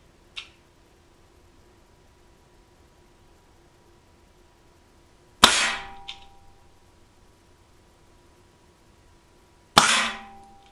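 A Sig Sauer X-Five ASP CO2 blowback pellet pistol fires at a target outdoors; two sharp, loud pops with a brief hiss and clack, several seconds apart, follow a faint earlier click, with no talking.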